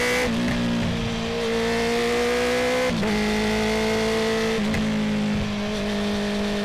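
A Honda CB650R motorcycle fitted with a full Akrapovic exhaust and quickshifter accelerates hard, its loud steady engine note rising through gears with brief dips at quick upshifts, close to the microphone with no talking.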